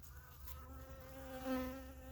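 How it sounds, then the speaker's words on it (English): Bees buzzing around night-blooming Trichocereus cactus flowers while collecting pollen, a steady droning hum with one buzz swelling louder and closer near the end. "The flowers seem to get the bees very excited, and a pollen collecting frenzy ensues."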